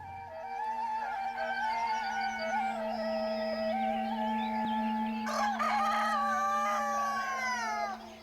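Bresse chickens raised on a farm, with a rooster crowing loudly and close by in long drawn-out calls, other fowl clucking and calling around it against a steady background hum.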